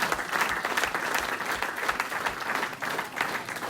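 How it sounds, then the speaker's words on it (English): A fans' forum audience claps steadily for the evening's panel, a dense, even wash of applause filling the room with no talk over it. "Can we have a round of applause for our panel this evening?"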